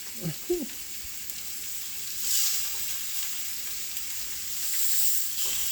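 Food frying in a cast iron pot, a steady sizzle that holds throughout and swells in places, with a few faint knocks near the start.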